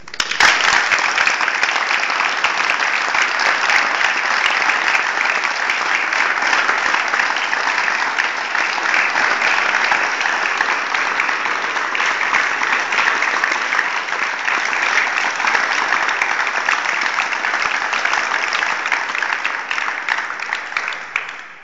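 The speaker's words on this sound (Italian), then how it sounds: "vi chiedo di fare un bel applauso alla memoria di" Sustained audience applause at a memorial award ceremony in Sanguinetto, honoring the late Luigina Rinco; dense, steady clapping from a large crowd holds evenly for over twenty seconds without voices on top.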